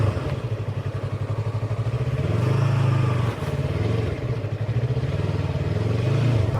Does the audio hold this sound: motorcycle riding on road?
yes